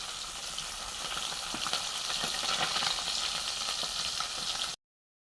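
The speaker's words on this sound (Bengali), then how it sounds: "বাটা মাছ ভাজা হয়ে গেছে," Bata fish frying in a pan, a steady close crackling sizzle with faint scraping ticks scattered through it, running unbroken for nearly five seconds before stopping abruptly.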